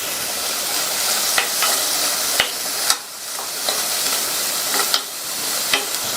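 A medium-sized carrot and other vegetables sauté in a hot pan for soup, making a steady, loud sizzle broken by regular scraping stirs.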